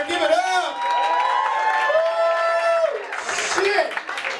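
Comedy club audience applauding and cheering for a stand-up comedian, a steady roar of clapping and whoops heard under an MC's voice.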